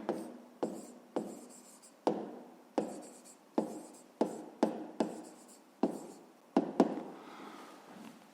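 Pen or chalk writing down a math equation: a series of about fifteen short scratching strokes with brief tapping starts, close and clear, separated by small pauses, with no talking.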